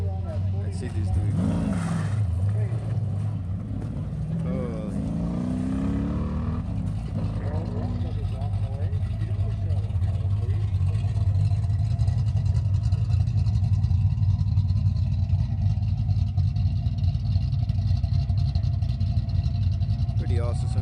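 A Porsche racing at an autocross event, its engine droning steadily at mid distance and rising and falling in pitch as it accelerates through the course, while people talk over it.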